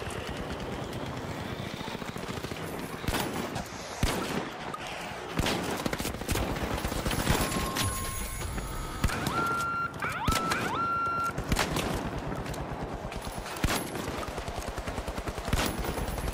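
Gunfire from the first-person shooter The Finals comes in rapid bursts and single shots, with electronic beeps and tones among the loud close combat noise.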